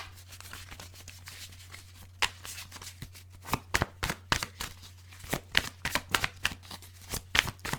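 Tarot cards are riffled and shuffled in quick, crisp bursts of papery flutter, repeated several times close to the microphone.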